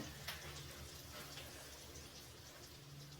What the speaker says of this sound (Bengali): এখন ভালো করে উল্টিয়ে পাল্টিয়ে বড়াগুলোকে ভেজে নামিয়ে নেব